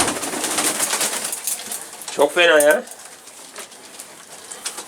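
A pigeon gives one clear, rolling coo up close, lasting about half a second, with someone talking and background noise around it.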